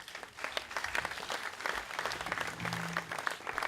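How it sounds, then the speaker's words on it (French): An audience at a political gathering for Calédonie Ensemble breaks into sustained applause, a dense, steady wash of clapping from many hands that continues throughout. "Je vous demande d'applaudir Nina Juliet avec sa vidéo."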